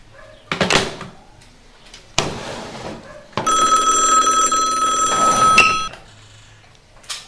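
A telephone at a police station rings in one long, loud electronic trill lasting a couple of seconds, set between sharp knocks and thumps of handling.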